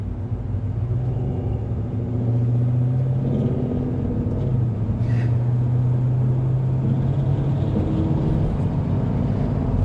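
A 2026 Chevrolet Corvette 3LT convertible cruising, its engine giving a steady, low droning rumble with road noise that holds evenly throughout, no talk over it.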